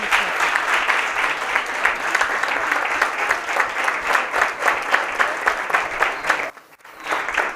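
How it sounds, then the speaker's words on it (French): Standing audience at a talk show breaks into sustained applause, dense clapping filling the room for several seconds before a brief pause near the end and a renewed burst. "On se lève et on applaudit."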